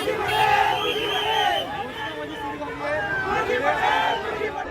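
Thousands of political supporters gather at an election rally as candidates file their nominations, a dense roaring crowd of chanting, cheering and loud overlapping voices sustained throughout at close range.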